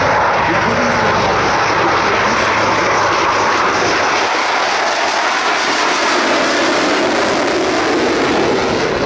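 A Rafale fighter jet roars past at an air show, a loud, sustained broadband engine rush that swells and holds steady close overhead throughout.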